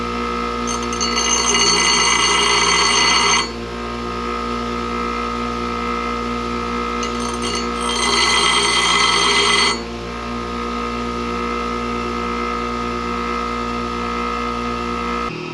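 A bench grinder grinding relief into a drill bit, with two gritty bursts of grinding each lasting a few seconds over a steady motor hum that continues between and after them.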